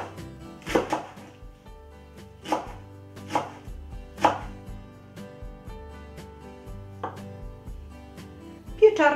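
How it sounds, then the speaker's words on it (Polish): Kitchen knife chopping fresh chives on a board for a mushroom soup, a series of sharp irregular chops spaced a second or so apart, close and clear over a faint background hum. "Wykorzystam także część szczypiorku, podzielę oczywiście go na drobniejsze części."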